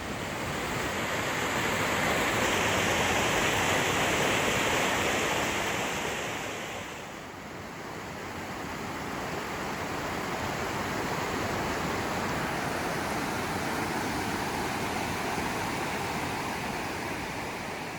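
Rushing creek water and falling water at Steels Creek in North Carolina, just downstream of a waterfall among massive boulders, a loud, steady roar with a brief dip in the middle, no voices.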